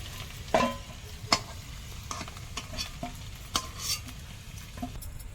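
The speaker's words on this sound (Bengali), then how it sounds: "আলুটা খুব সুন্দর করে ভেজে নিয়েছি এখন উঠিয়ে নেব" Potatoes fry in oil in a pan while a utensil stirs and lifts them out, sharp scraping knocks over a soft, steady sizzle, close by and fairly quiet.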